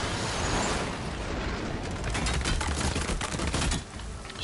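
Gunfire from a battle in the video game Horizon Zero Dawn, a dense, continuous stream of rapid shots and impacts filling the whole stretch at steady loudness with no talk.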